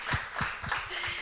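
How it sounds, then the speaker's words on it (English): A panel audience breaks into applause, several quick claps heard at close range with a few more trailing off over about a second. "So she deserves a big round of applause for being on the spot here."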